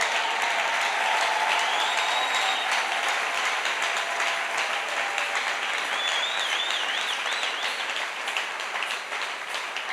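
A church congregation at a thanksgiving service giving sustained, dense applause from a large crowd, with scattered cheers and whistles rising through it over ten seconds.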